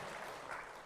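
Applause from a church congregation at Daebang-dong Catholic Church in Seoul, a dense even wash of many hands clapping, steady and moderately distant throughout the short moment.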